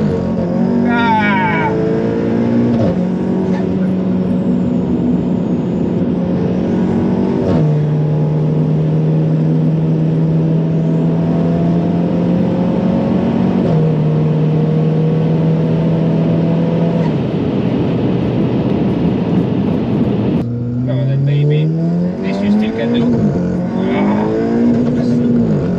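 A 510 bhp Audi S3 8V under hard acceleration, its engine note loud and close from inside the car, rising in pitch and dropping sharply at each of several gear changes, ending in one more steep climb.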